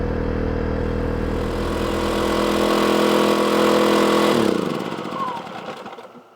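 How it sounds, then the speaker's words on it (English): An Erayak 4500PD dual fuel generator runs with a steady droning hum and rattle, then winds down and stops near the end. "this dual fuel Erayak generator performed exactly as I hoped"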